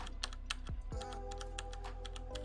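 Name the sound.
typing on a computer keyboard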